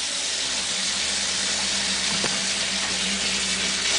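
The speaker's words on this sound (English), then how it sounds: "we're going to start out with filling the bucket up with some water" A bucket filling with water from a tap turned up on high, a steady broad hiss and splash that holds at an even level throughout with no talk.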